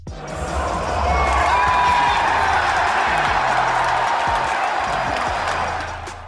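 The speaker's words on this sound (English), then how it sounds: "whenever he died, the entire crowd would erupt" A packed stadium crowd at the Fortnite World Cup erupts in a loud roar of cheering and clapping that swells quickly, holds for several seconds, then fades away.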